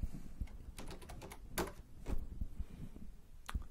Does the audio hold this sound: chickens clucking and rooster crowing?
no